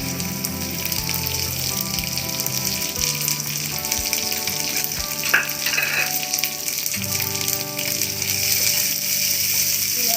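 Chopped onions frying in a pan for jeera rice, a loud continuous sizzle and crackle with a few stirring clicks throughout.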